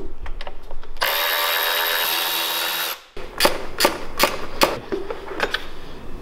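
A power tool whirs steadily for about two seconds while removing the CVT side cover bolts on a Trailmaster MB200 minibike, then stops, followed by close metallic clinks and taps of parts being handled.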